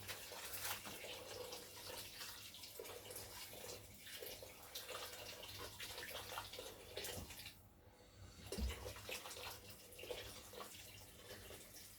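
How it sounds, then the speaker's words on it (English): Hot water pours into a pot of pepper soup, a steady splashing flow running throughout at close range with one brief dip midway, no voices over it. "Then I'm going to pour hot water."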